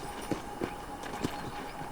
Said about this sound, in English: I picked out a fine horse for you. Giddy up!